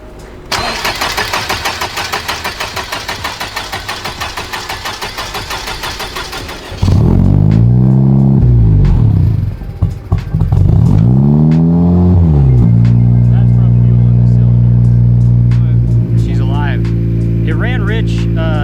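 A starter cranks rapidly for several seconds, then a 10th-generation Honda Civic engine with a bolt-on turbo upgrade catches with an uneven, stumbling rev before settling into a steady, loud idle.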